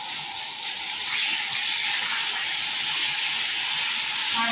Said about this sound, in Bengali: মাছটাকে বেশ ভালো কড়া করে ভেজে নিই